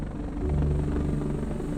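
A forestry firefighting helicopter used for water drops thunders continuously with a deep, pulsing rotor drone, loud and close, with no other sound present.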